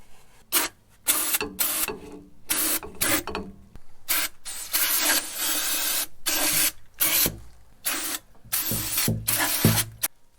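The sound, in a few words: spraying brake cleaner from aerosol can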